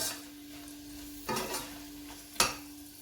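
Red chillies and garlic fry gently in oil over low heat, a faint steady sizzle broken by two sharp scraping stirs of a spoon against the pan.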